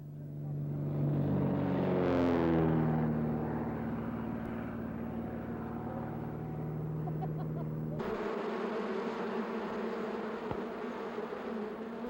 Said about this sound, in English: And these are the bees.